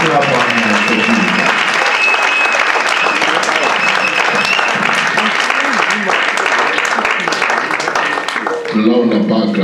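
A church convention audience bursts into loud, sustained applause and cheering that fills the space for several seconds before briefly easing, then picks up again near the end.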